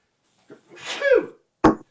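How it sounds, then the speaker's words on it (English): A single sharp sneeze bursts out after a brief intake of breath and a drawn-out vocal build-up, close and fairly loud, followed by short silence. "Yep, I'm going to sneeze."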